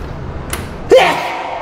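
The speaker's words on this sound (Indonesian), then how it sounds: "Itu kayak kayak suara dari pintu ya." A door slams once inside an old, dusty, empty house, a sudden sharp bang with a brief fading rumble after it, following a faint earlier tap and low room hiss.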